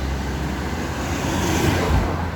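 Cars passing on a busy street, heard from the pavement as a constant roadway hiss and low rumble, with one vehicle swelling slightly louder midway through; no voices.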